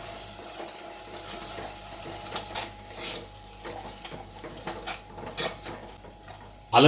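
Ginger paste is stirred into a tomato-onion puree in a pan for smoky dhaba-style black rajma, giving close, repeated scraping and soft squelching strokes over a low sizzle, ending in a sharp clatter.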